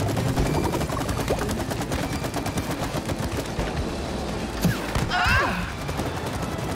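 Steady gunfire from the video game It Takes Two rattles throughout, a dense run of rapid shots under faint background game sounds, with a brief whooshing effect near the end.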